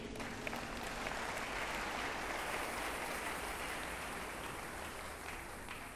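An audience applauds at a church gathering, with dense, sustained clapping from many hands that stays loud and even throughout.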